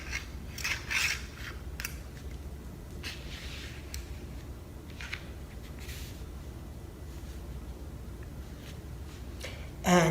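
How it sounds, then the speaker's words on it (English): Paper being creased with a blunt burnishing tool along a pencil line, a faint, steady rubbing scrape with a few brief sharper strokes, close by and with no talk. "I'm putting a nice crease with the burnishing tool"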